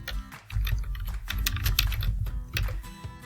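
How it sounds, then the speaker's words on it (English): Rapid typing clatters on a computer keyboard, close, with bursts of quick keystrokes broken by short pauses, with no talk. "you're going to start typing in the name of your high school"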